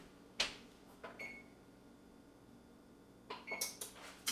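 An oven control panel beeps as it is set to preheat to 350 degrees, a few short electronic button tones spaced apart with quiet kitchen room noise between them and a small cluster of beeps near the end.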